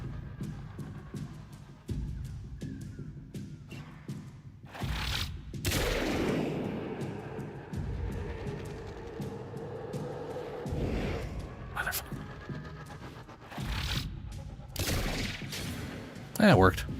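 A player's gun firing in the video game Warframe, several loud, spaced bursts of shots over ambient game noise, with a person talking between them.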